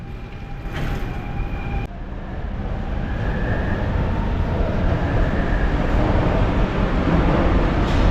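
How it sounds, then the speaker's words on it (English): A Shanghai metro train pulls out of a station, a steady low rumble of wheels and motors that builds gradually, with faint tonal whines and a brief clunk early on, no talking. "let's watch the train leave"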